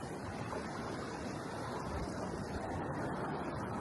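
Ocean surf rolls in at a beach in Tonga, a steady broad wash of waves with some wind rumble, continuous and fairly distant.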